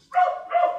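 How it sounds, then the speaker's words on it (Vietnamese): A yellow village puppy gives two close, sharp barks in quick succession, loud and clear with nothing else audible. "Con vàng sủa."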